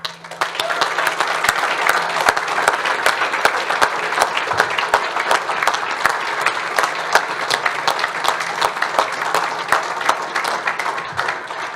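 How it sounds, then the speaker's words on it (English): Sustained audience applause at a school sports award ceremony, greeting a recipient honoured for 40 years of commitment; dense, steady clapping from a full room holds at an even level for the whole stretch. "Please give a huge round of applause to Craig Cornwell."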